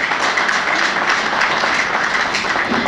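Warm, sustained crowd applause at a regional award ceremony honouring an absent jury president, a sculptor. Dense clapping from many hands runs steadily throughout with no talking.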